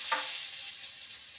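Hot tempering with chillies poured over grated coconut for beetroot kosambari gives a brief, loud, close hiss that quickly settles into a fading sizzle.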